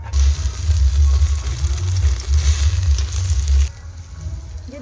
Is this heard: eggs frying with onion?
yes